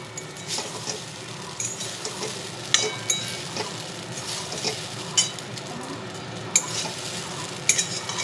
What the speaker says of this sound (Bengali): এটা একটু ভালো করে নাড়াচাড়া করে নিয়ে আবার ফিরে আসছি